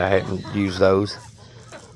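Backyard hens of mixed breeds, including Rhode Island Reds, Rhode Island Blacks and Easter eggers, cluck close by while a person speaks briefly over the start.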